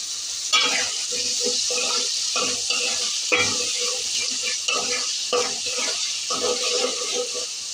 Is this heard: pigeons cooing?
no